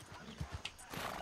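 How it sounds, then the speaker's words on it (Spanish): A horse in the Western roleplay game RedM clip-clops along in a few soft, evenly spaced hoof thuds, quiet and slightly distant, with faint background noise. "Este es el caballo de ella, ¿no?"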